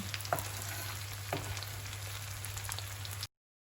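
Five or six green chilies fry in hot oil for okra salan, a steady close sizzle and crackle with a couple of sharper pops near the start, cutting off abruptly.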